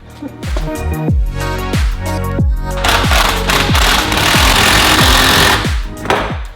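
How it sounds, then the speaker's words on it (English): A power driver runs T25 Torx screws into an Audi RS6 charge cooler in a series of about ten short, sharp whirring bursts separated by brief pauses, close and loud. "there's just 15 T25 torque screws to fit in place"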